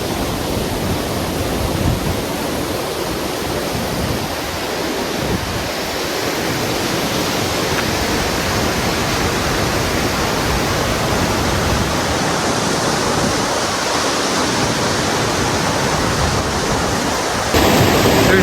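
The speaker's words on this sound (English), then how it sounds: "There's that beautiful waterfall." Steady, loud roar of a waterfall plunging into a pool below, a dense broadband wash of falling water heard close up and continuous throughout with no voices, swelling slightly louder near the end.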